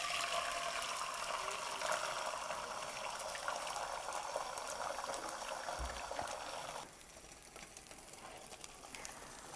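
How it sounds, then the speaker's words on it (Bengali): Beaten eggs frying in oil in a pan, a steady close hiss and sizzle that drops a little in level partway through. "তো প্রথমেই আমি ডিমটা ভেজে নিব, সেই জন্য প্যানে পরিমাণ মতো তেল নিয়ে নিচ্ছি"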